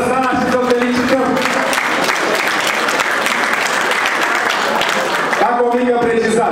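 Hearty applause from the hall at a farmers' ball honouring the 2022 farmer of the year, loud and continuous across the middle, with a voice speaking over the start and again as the clapping ends.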